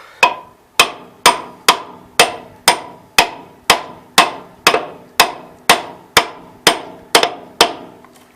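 Around sixteen sharp metallic hammer blows driving a front PTO axle bearing into place on a 1988 Gravely 16G tractor, struck in a steady, even rhythm, each ringing briefly before the next, close and loud.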